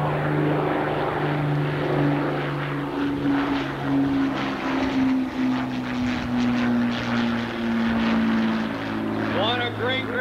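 A propeller bomber flying past at the 1991 Dayton air show, a steady droning engine hum with a slowly shifting pitch, heard from a distance under a public address announcer's voice.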